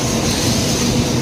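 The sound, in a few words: bullet trains arriving and departing at Yokohama station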